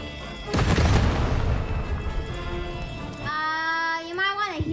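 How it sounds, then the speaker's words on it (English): Bombs blasting in the video game Lost in Random: a loud, broad boom about half a second in, then a rumbling sustained roar, with tonal game sound effects sweeping and rising near the end. "gonna drop bombs on you"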